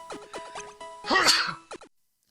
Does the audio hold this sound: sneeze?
yes